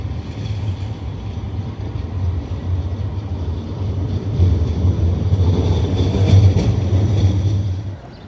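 Steady low rumble of a train and station traffic outside the central railway station in Oslo, Norway, a continuous loud drone that swells toward the end, with no talking.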